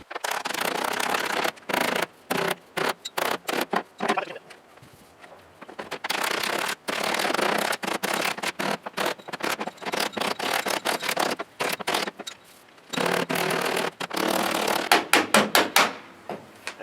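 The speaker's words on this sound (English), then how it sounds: "you can take your body hammer, just tap it in a little bit" Rapid bursts of metallic tapping, a body hammer striking the sheet metal of a Jeep Wrangler YJ in quick rhythmic runs with brief pauses between, loud and close.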